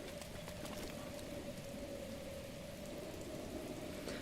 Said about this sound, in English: since it's still raining